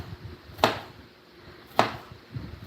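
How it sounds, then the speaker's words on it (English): Two sharp knife chops on vegetables strike a cutting board about a second apart, close and crisp, over a quiet room background. "So now I'm making a noise while chopping my vegetable."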